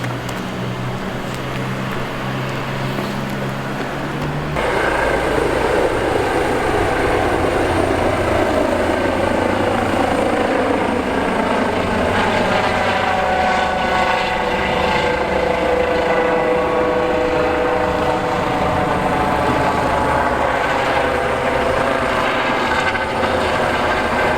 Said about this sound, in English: I've been interrupted a few times by the helicopter,